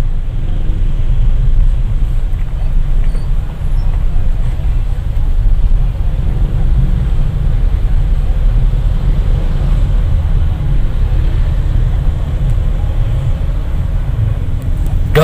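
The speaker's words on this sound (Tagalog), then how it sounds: "Sobrang daming mga motor." Steady, heavy engine drone of dense street traffic, with many motorcycles buzzing together close by, continuous and loud throughout.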